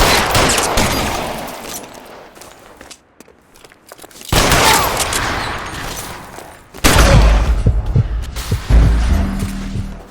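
Gunfire during a robbery shootout in the video game L.A. Noire comes as dense bursts of loud, crackling shots in several waves, with heavy low booms hitting toward the end.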